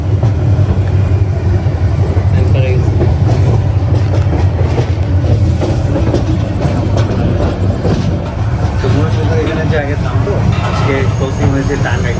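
Loud, continuous rumble of a train rolling along the rails, with rhythmic clatter of the wheels and people talking over it.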